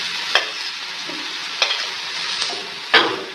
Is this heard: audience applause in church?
no